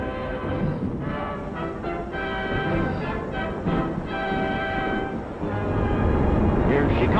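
A 1942 New York, New Haven and Hartford Railroad Yankee Clipper passenger train pulls into an underground upper-level station track, a loud rumbling, clanking roar with rhythmic metallic knocks, heard close and mixed with station noise.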